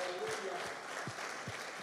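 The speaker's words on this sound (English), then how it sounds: "Clap your hands and celebrate Jesus" A church congregation claps along, with rhythmic hand claps falling roughly every half second under a busy background of voices and music.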